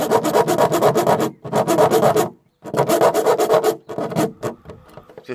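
A hand file rasps the cut corners of a socket hole in the body of a VW T4 van, giving close, rhythmic scraping strokes in four bursts separated by short pauses.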